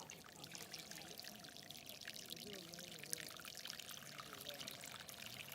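Water pours steadily in a continuous, moderately faint gush, with a low murmur of background voices underneath.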